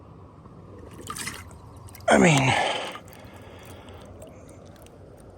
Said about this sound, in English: I should have brought my pot to scoop the water in.